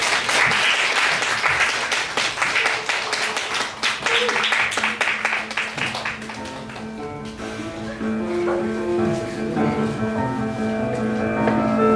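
An audience at a Korean school book presentation event claps loudly for a few seconds; the applause thins out around the middle, and sustained music tones take over toward the end.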